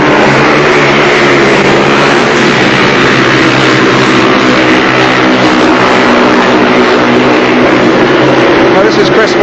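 Speedway bikes race at Belle Vue in the 1983 Northern Riders Final, their engines roaring loudly and continuously with rising and falling revs, while a commentator talks over them.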